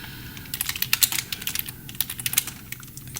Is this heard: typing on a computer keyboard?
yes